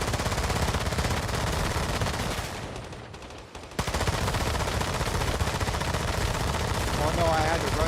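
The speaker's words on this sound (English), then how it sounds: "he's already shooting." Rapid automatic gunfire in the online survival shooter Once Human, loud and dense, broken by a brief lull and then resuming, with a little background chatter.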